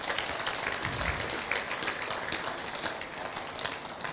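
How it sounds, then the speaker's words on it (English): An audience at Fiji Fashion Week 2017 applauds the evening's designers with dense, continuous clapping that fills the space evenly for several seconds, with no one speaking over it. "a round of applause for all the wonderful designers for this evening"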